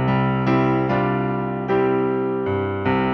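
A short piano phrase of sustained, connected chords and notes, each ringing into the next, played at moderate loudness with no voices.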